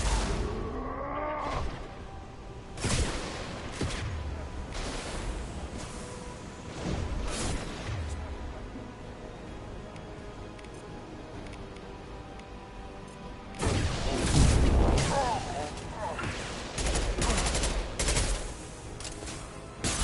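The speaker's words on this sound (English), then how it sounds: "Taking heavy fire." Heavy gunfire in a sci-fi shooter battle from Mass Effect 2, with repeated bursts of automatic shots and impacts that thin out midway and then swell into a loud, dense barrage near the end.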